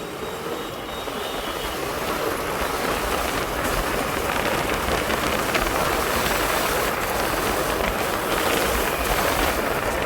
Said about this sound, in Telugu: వెళ్తున్నా కొద్దీ వాన అయితే ఇంక్రీజ్ అవుతుంది